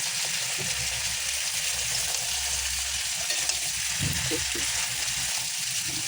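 A Bengali tilapia fish curry with tomato, green chilli and turmeric cooks in a pan, giving a steady soft sizzle with a few low stirring knocks and scrapes near the middle, close by, with no voices.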